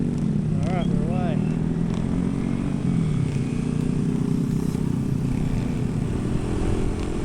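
A small Keeway motorcycle with a rough idle, ridden on a New Zealand small-bike run: a loud, close, continuous engine drone with wind buffeting and light mechanical clatter.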